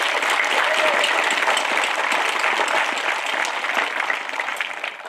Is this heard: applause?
yes